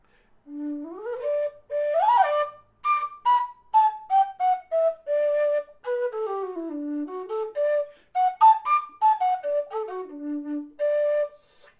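A Kerry Busker low D whistle plays a run up and down its scale, clear breathy notes stepping higher and then back down in separate phrases, close and fairly loud with no one talking.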